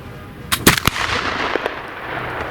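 Shots from an 1800 Baker flintlock rifle in a shooting exercise, with a few sharp cracks close together near the start and a fainter report after, then open-air quiet with no talk.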